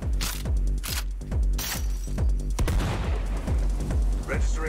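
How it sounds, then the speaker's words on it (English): Rapid heavy gunfire in an episode of the anime Cyberpunk Edgerunners, loud close bursts of repeated booming shots in quick rhythmic volleys, with no talking over them. "Registering gunfire in the service area."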